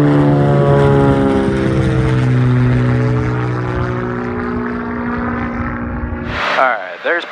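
Propeller drone of a Cirrus SR20 single-engine airplane climbing after takeoff, a loud steady engine tone with gradually shifting pitch heard from inside the cockpit, with a brief burst of radio or voice near the end.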